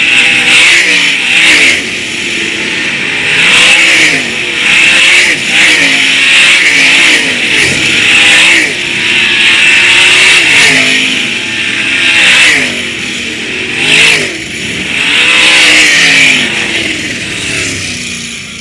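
410 sprint cars race an A-main at Attica Raceway Park, engines roaring loud and close as they rev and pass again and again in repeated surges, with no talk over them.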